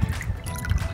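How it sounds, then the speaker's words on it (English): Water drains out of a cup through a straw in a homemade water clock, a soft, steady trickle and dribble heard close up with low rumbling underneath and no speech. "You can see the water will start draining out of the cup through the straw."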